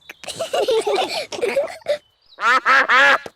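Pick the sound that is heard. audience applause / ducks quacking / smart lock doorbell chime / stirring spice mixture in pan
ducks quacking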